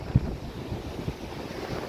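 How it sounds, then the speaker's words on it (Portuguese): Strong wind buffets the microphone on a beach at night during family shore fishing, a steady low rumble with a couple of sharp gust thumps and no voices. "Tá ventando bastante aqui."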